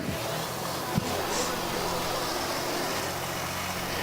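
Pulling tractor engine at a tractor pull event, a steady mid-pitched idle rumble heard from a distance with a single sharp knock, continuous and fairly quiet.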